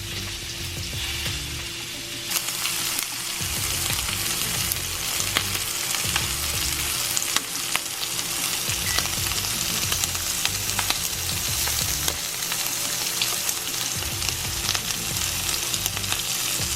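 Lamb chops fry in a hot pan with a loud, continuous sizzle and crackle of spitting fat, heard up close for a long stretch with no one speaking.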